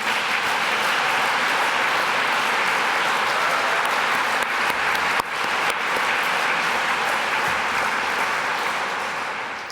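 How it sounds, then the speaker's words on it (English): Sustained applause from the audience at an award ceremony, dense and even throughout, thinning slightly toward the end. "please all just give a round of applause for all the performers tonight"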